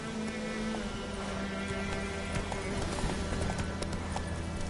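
Horse hooves clip-clop steadily in The Witcher 3 video game, a continuous even trotting rhythm over a constant ambient bed, fairly close and moderately loud with no talk.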